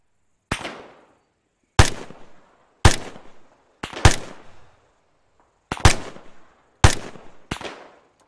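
Spaced single gunshots crack out in a shooter video game, about seven sharp reports with short decaying tails and pauses between, fairly loud and without voices.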